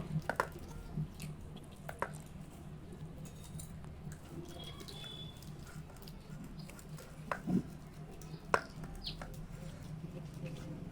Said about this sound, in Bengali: অল্প অল্প জল দিয়ে ময়দাটাকে মেখে নেব